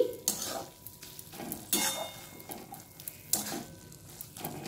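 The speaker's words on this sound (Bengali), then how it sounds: "কাঁচা সর্ষের তেল একটু দিয়ে মিশিয়ে নিচ্ছি" Mustard oil being stirred into thankuni leaf curry in a pan, with soft scraping strokes that repeat about every second and a half over a faint sizzle, close by and with no one talking.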